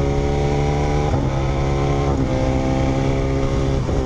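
A 2019 BMW S1000 motorcycle with an aftermarket exhaust and remapped module runs at a steady, loud engine drone, with a few brief dips in pitch as it shifts gears, close by and without talk.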